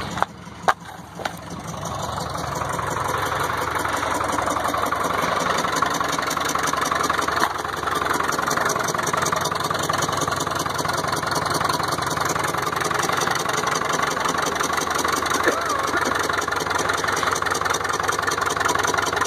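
A WWII-era Caterpillar RD4 bulldozer engine runs at a steady, loud idle after a few sharp starting knocks, its rough mechanical chugging continuous and close throughout.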